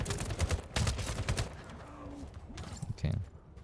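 Bursts of gunfire from weapons in the shooter game The First Descendant, several rapid volleys near the start and another around the three-second mark, with gaps between and faint game sounds underneath.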